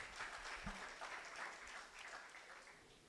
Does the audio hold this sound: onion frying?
no